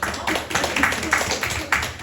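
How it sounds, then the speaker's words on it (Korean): A small group claps in quick, irregular bursts for about two seconds at a high school admissions presentation, sounding nearby and fairly loud. "감사합니다. 박수."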